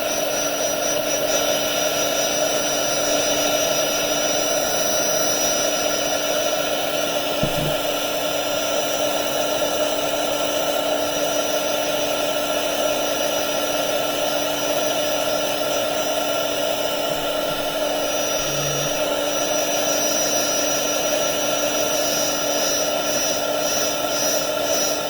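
A blower or heat tool roars continuously and loudly for the whole stretch, drying a glittery craft project, a steady droning whine with no pauses and no voices.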